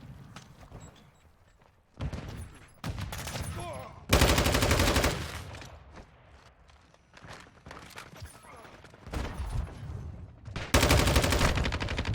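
Pistol shots in Call of Duty: Beetle Battle, fired in several sharp bursts of rapid cracks with short pauses between them, loud and close, with game footsteps and clatter in the gaps.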